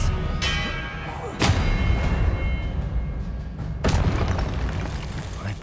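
Spell blasts crack out in Hogwarts Legacy as Expelliarmus is cast, sharp booming bursts at about one and four seconds over a steady loud ambient rumble.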